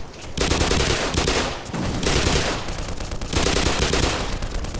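An armored gun fires in Black Mesa, with sustained bursts of rapid machine-gun fire in three long volleys separated by brief pauses, loud and close.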